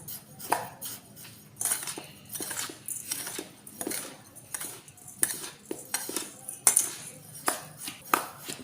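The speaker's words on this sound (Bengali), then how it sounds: "একশো চিনি নিয়ে নিলাম একশো পাউডার দুধ নিয়ে নিয়েছি এক চিমটে লবণ নিয়ে নিলাম এটা ভালো করে মিশিয়ে নেবো" Sugar, milk powder and a pinch of salt being mixed in a bowl for homemade pitha, heard as a spoon clinking and scraping against the bowl in irregular close strokes, with no one talking.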